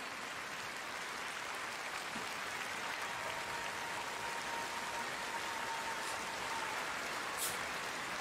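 A concert crowd applauds with a continuous, even wash of clapping that sounds distant and uniform, with no individual claps standing out over the full stretch.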